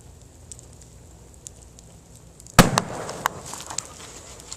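Bamboo poppers bursting in an outdoor log fire of huge sycamore logs: faint crackle and small pops, then one sharp, loud bang followed by several smaller snaps and lingering crackling, close by.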